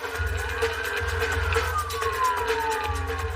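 A fire truck's wailing siren rises and falls steadily over a throbbing engine rumble, loud and close, as it drives to a fire.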